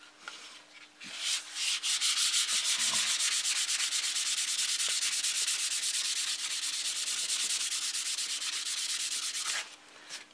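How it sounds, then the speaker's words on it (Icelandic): Sanding the other side of a Kwik-fli Mk III model airplane by hand produces a close, steady rasping scrub with rapid back-and-forth strokes lasting about eight seconds, followed by a short pause and a brief resumption, with no talking. "En á meðan get ég farið hérna hinum megin og pússað hina hliðina."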